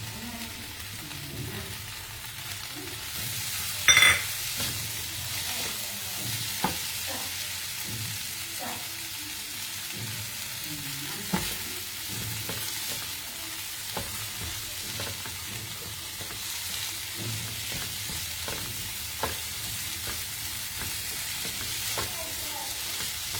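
Paneer cubes stirred into a tomato masala in a pan, a steady sizzle and fry with repeated scraping stirs and occasional sharp clinks of the spoon against the pan.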